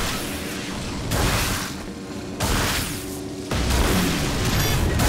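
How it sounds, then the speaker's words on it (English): A Star Trek co-op video game explosion rumbles loudly and continuously, a dense booming roar with several surges in intensity and no voices over it. "An explosion."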